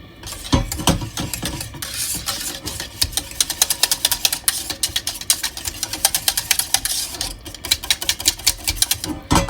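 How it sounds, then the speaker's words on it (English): Whisk scraping and clattering rapidly in a pan of moussaka white sauce with cheddar cheese, a loud, dense stream of metallic rattling ticks that runs throughout. "this is where I need to bring in the whisk and make sure everything's nicely incorporate"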